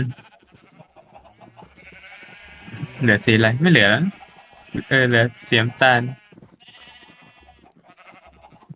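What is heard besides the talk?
sheep bleating in the video game Minecraft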